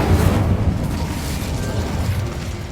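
Incendio fire spell cast in Hogwarts Legacy, a burst of fiery whooshing and rumbling blast, fairly loud, fading over a couple of seconds without talk.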